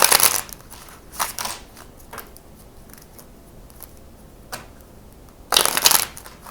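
Tarot cards being handled and shuffled up close, crisp riffling bursts at the start, again around one second and a longer loud flurry near the end, with softer card slides and taps between them, no talking.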